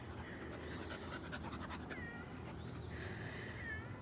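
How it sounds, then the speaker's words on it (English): A stressed cat on a morning nature walk with dogs lets out a few faint, drawn meows over outdoor background noise, with panting nearby. "Cat is stressed."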